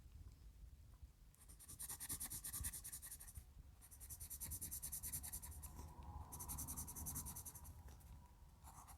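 A vintage extruded pencil writes on paper close to the microphone, making three bursts of dry, scratchy scribbling separated by short pauses, with no talking.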